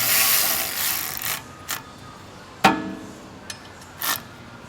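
A tool fastens the T30 screw that holds a brake rotor on a 2012 Volkswagen Tiguan, giving a few separate sharp ratcheting clicks and short mechanical bursts after a brief rubbing noise, each close and isolated.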